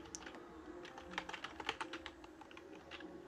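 Someone types a function name into Pygame game code on a computer keyboard, producing a quiet, steady run of rapid, close key clicks.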